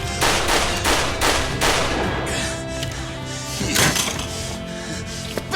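Loud gunshots burst in quick succession during a Judgment gunfight in the Matsugane Family robbery. The dense, close cracks come in clusters with short gaps between them.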